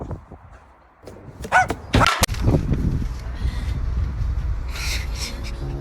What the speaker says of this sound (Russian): но она в ответ только лает